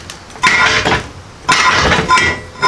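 Two sharp metallic knocks about a second apart, each ringing briefly, as a slide hammer strikes close by, knocking an axle free from a Ford 8-inch rear end.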